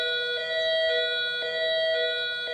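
A faulty milking-time alarm sounding as a steady, bright electronic tone that pulses at a regular rhythm, loud and alone for several repeats.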